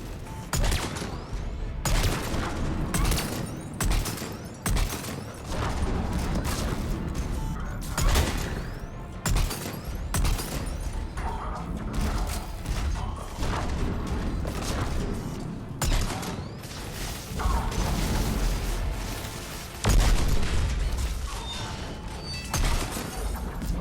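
Sustained gunfire from the Mass Effect Legendary Edition battle, with dense crackling bursts, mechanical clatter and impacts running almost without pause, plus occasional louder booms.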